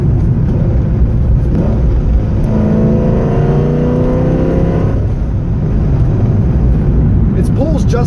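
A 1998 Chevrolet Corvette C5, mildly modified rather than stock, accelerates hard with a loud engine note that climbs steadily in pitch over a few seconds before easing off, over a constant rumble of road and wind noise.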